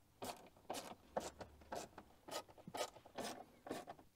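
T15 screws being driven back into a BMW M2 interior panel with a screwdriver, producing about nine brief ratchet-like rasps in a steady rhythm, close up and with no voices.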